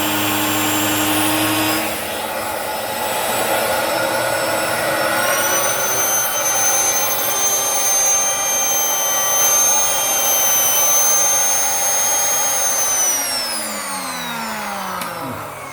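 A DSZERO-A carpet cleaner roars steadily with both motors running, a loud, close whine of suction and airflow with layered tones that hold and then slide downward near the end as the motors wind down.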